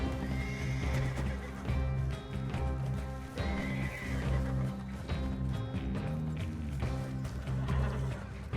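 A horse in the video game Red Dead Online neighs and whinnies repeatedly while its hooves pound in a steady galloping clip-clop. The sound is loud and continuous, mixed over a dense game soundscape.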